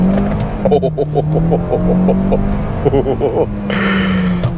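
A 2022 Kia Soul Turbo with front-wheel drive accelerates hard after brake boosting. Its engine gives a steady, close, low drone with a brief higher burst near the end, and a voice can be heard over it.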